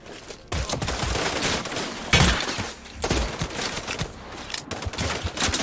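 Suppressed sniper rifle fire in Sniper Ghost Warrior 3, sharp bursts of shots and impacts standing out against a busy, loud background of game effects, with several heavy hits around the middle.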